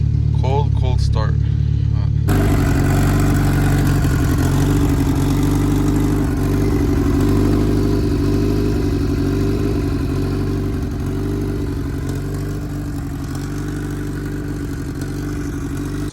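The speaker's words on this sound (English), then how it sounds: "Cold start." A boosted Honda Civic engine cold-starts after a brief quiet moment, then settles into a loud, steady idle with a low rumbling drone and light clatter that continues evenly close to the microphone.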